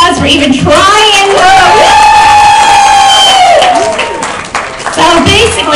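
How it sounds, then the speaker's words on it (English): Loud crowd cheering with shouts, whoops and scattered applause after a bubblegum blowing contest, voices rising in long sustained yells close by, dipping briefly before picking up again. "Let's give them an applause for even trying."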